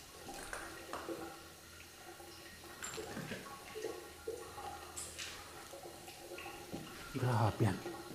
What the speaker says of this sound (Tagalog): Pero naririnig ko na may gripong bukas.